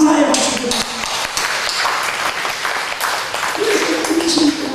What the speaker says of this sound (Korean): 우리 참 부모를 위해서 감사의 박수를